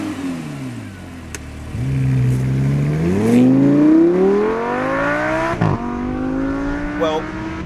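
A Lamborghini Huracan, the 602bhp Gallardo successor, drives with its engine rising in pitch through gears, a loud steady rev climbing then dropping at a shift, heard close and alone.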